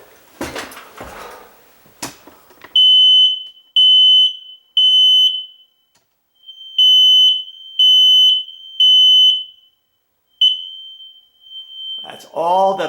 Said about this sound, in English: I'm going to press this, and it should only beep, like a regular smoke alarm